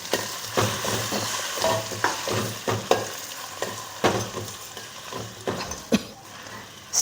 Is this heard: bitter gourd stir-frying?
yes